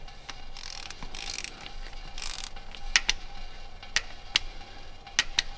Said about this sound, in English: got my torque wrench set to 25 Newton meters